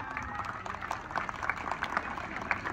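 A crowd at a local gathering claps with raised hands, a steady patter of applause that stays fairly faint and even throughout, with some talk mixed in.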